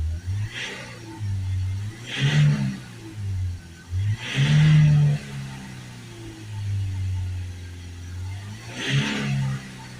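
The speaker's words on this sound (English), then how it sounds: "Give it a few little revs up and down." A Ford Transit 2.2 RWD MK8 van engine is revved up and down about four times, each rising whine swelling and falling back to idle, close and with no talking.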